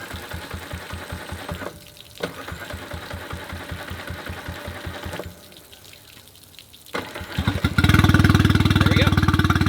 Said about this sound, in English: we're gonna go ahead and start the 15 Suzuki 4-stroke